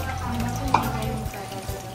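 Food crackling and sizzling steadily in hot oil nearby, with a sharp pop or two and a faint hum underneath.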